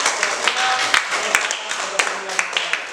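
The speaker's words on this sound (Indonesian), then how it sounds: "silakan berikan tepuk tangan yang meriah untuk kelompok 1" Classroom applause for student groups, scattered claps from pupils with a steady broadband patter throughout and a few sharper individual claps standing out, moderately loud with faint voices underneath.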